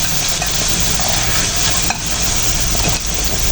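Cold boiled potatoes tipped into a hot pan and frying, a steady close sizzle with stirring and scraping, a couple of sharp knocks against the pan, no talking.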